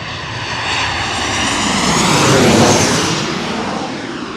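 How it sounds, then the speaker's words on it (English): An American Airlines Boeing 737 from Dallas roars loudly past at LaGuardia, its jet engine noise swelling to a peak and then slowly easing as it passes overhead. "Here's an American Airlines from Dallas, Boeing"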